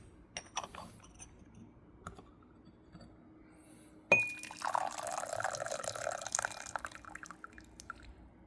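Hot water at 208°F poured over raw puer tea leaves as a quick rinse, a soft splashing pour that starts abruptly after a few faint clinks of teaware and runs for about four seconds.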